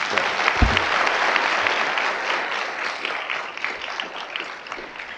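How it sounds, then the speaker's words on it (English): Audience applause fills a board meeting room, a steady wash of many hands clapping at moderate loudness throughout, with no talk over it. "to give him a round of applause"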